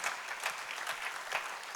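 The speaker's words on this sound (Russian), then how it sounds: "Many of you, let's give them applause." An audience applauds at a talk, with steady crowd clapping that sounds somewhat distant and soft, continuing evenly for a couple of seconds without speech.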